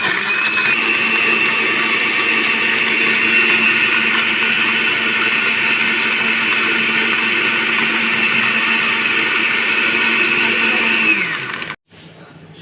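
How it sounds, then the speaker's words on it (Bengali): A kitchen blender whirs loudly and steadily while blending fresh malta orange juice with water, running unbroken for about eleven seconds before cutting off abruptly. "তো গাইজ, এখন আমরা ব্লেন্ডার করব।"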